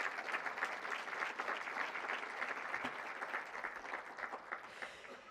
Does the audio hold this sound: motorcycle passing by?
no